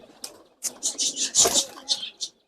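Pigeons coo in a loft, a series of soft throaty rolling calls in close succession, fairly near, with a voice briefly mixed in among them.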